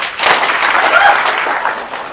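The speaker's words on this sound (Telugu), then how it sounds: "నేను ఇప్పటిదాకా చెప్పిన అన్ని నిజాలు అని మీకు అనిపిస్తే ఒక్క క్లాప్ కొట్టండి నా కోసం" An audience at a direct selling business meeting bursts into loud, sustained applause, a dense wash of many hands clapping together close by for the whole stretch.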